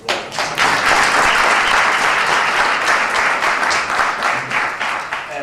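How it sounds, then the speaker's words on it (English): Sustained, loud audience applause fills a breakfast recognition ceremony for the Caribbean community in Nassau County, a dense steady wash of many hands clapping for about five seconds with no talk over it. "Can you give me a round of applause?"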